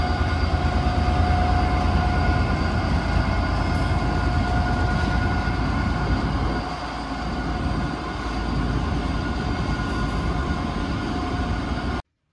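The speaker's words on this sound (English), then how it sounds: "as the diesel engines roar on this Mark IV train" A loud, steady drone and rumble of diesel engines heard from inside a Mark IV train carriage between Cork and Dublin, with a constant hum that dips briefly midway.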